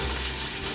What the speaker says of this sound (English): we're going to take our chopped onion and chopped garlic and put it right into the pan.